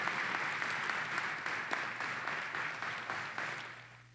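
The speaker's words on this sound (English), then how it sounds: "I kind of want to give a round of applause to the Martin High School Mariachi Band for that" An audience at a produce company's grand opening ceremony claps for a high school mariachi band after the national anthem, a short, fairly distant burst of applause that fades out.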